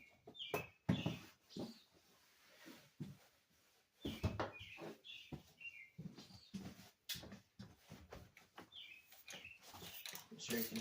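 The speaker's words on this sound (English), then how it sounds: "I'm sure you can hear our bird friends." Wild birds chirp and tweet outdoors near a kitchen being cleaned, with short repeated calls scattered through, heard beneath people talking.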